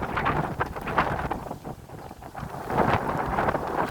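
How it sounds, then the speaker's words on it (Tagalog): Strong wind over Manila Bay buffets the microphone in irregular gusts, a rough, blustery roar that swells and fades, with no voices. "Oh, ayan na, lumalakas yung hangin."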